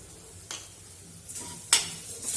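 Sesame-seed powder is stirred into hot tempering in a pan, giving a quiet background hiss with a few distinct spoon scrapes and taps, the sharpest one about two-thirds through.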